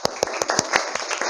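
A classroom of children claps hands in a quick, uneven burst of sharp claps, some in loose unison, close by and without talk.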